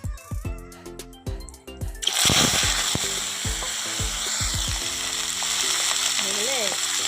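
Whole spices tempering in hot mustard oil for a home-style bottle gourd, eggplant and potato chorchori, a steady loud sizzle that swells after a few sharp clinks and stirring knocks, close up with no talk.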